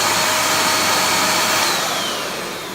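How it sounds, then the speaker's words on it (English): A Deerma compact vacuum cleaner runs with a loud, high-pitched whirring roar, steady at first and then slowly winding down in pitch and level, close and without talk. "Okay, let's check out the vacuum."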